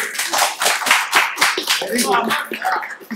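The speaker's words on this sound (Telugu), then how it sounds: "క్లాప్స్ కొట్టండి." An audience claps during a class-style interview with the Bubblegum film team, a burst of rhythmic handclaps close up with voices talking and cheering over it.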